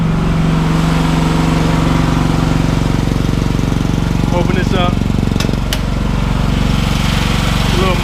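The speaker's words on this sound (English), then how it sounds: "It's not as loud as I thought it would be. Got a little noise to it, but it basically sounds like a lawnmower engine." A cheap Chinese AGT L12R mini excavator's small engine runs loudly and steadily nearby with a rapid, lawnmower-like chugging throb, while a person speaks briefly over it.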